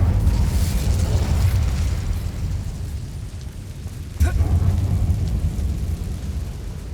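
An Incendio fire spell cast in Hogwarts Legacy inside an abandoned mine erupts as a sudden fiery burst partway through, over a constant low, rumbling ambient roar.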